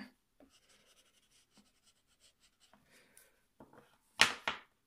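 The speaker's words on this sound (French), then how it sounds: "Ça, c'est une belle façon de colorier, vous avez vu?" Colour pencils scratch softly across paper in short, quiet strokes, closing with a couple of louder, brisker scribbles near the end.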